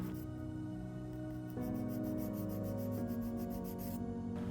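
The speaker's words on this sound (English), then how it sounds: "I'm going to start sanding all the cannons to get rid of these seams." Small plastic cannon parts from a Bandai One Piece Going Merry ship model kit are sanded to remove seams, giving a close, steady rubbing rasp in quick repeated strokes, fairly quiet, with no one speaking.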